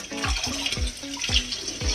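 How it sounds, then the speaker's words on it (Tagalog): Water runs and splashes in a sink while lettuce is washed, giving a quick series of close drips and plops over a soft trickle. "hugasan natin itong lettuce"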